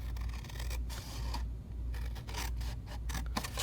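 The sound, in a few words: cutting paper along a line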